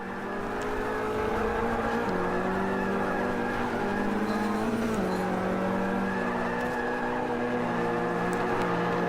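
Race car in Forza 5 at Road Atlanta, a VM hatchback engine droning steadily with pitch dips as it brakes and corners, tire noise underneath, continuous and loud.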